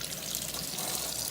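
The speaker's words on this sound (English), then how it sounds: "we're gonna rinse it really well." A foot detox array rinsed under running tap water, a dense, steady hiss of flowing water, close and unbroken, with no talk.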